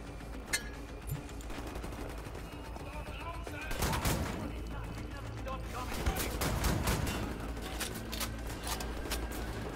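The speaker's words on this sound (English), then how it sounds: "Double shotguns for the win." Twin shotguns blast repeatedly in Wolfenstein: The New Order, a rapid run of sharp, loud shots in close bursts over a busy din of combat, with a voice speaking partway through.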